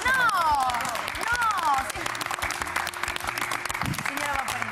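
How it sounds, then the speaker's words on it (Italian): Applause from a studio audience on an Italian TV show comes as sustained, dense clapping, while voices talk over it and a melodic singing voice rises briefly early on. "un applauso se lo merita!"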